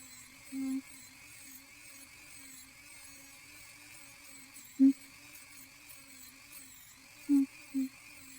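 A rotary polishing tool with a 220-grit attachment runs at a steady high-pitched whine, with a few short louder bursts as it touches the work, close and even throughout, no talk.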